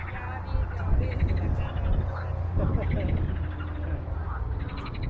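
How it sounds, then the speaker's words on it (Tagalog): A dense chorus of frogs croaking continuously near the sea in Belarus, with ambient outdoor noise and a faint low rumble underneath. "Ano yung maingay? Palaka pala."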